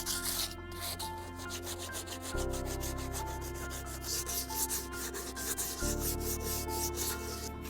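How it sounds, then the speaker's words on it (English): Hand sanding of a salvaged wooden cable reel makes a close, steady rasping scrape with rapid back-and-forth strokes, continuing alone without talk. "I'm going to give it a sand all over, just a really light sand to get off any debris and grit and dirt and stuff"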